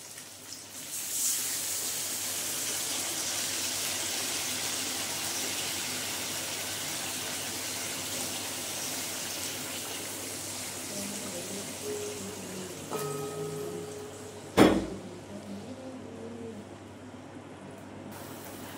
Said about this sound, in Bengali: এইবারে দিয়ে দেবো এতে জল